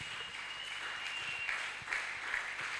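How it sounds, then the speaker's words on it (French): A church congregation applauds and cheers for Jesus, a faint, steady wash of clapping that sounds somewhat distant. "Je veux que tu acclames très fort pour Jésus."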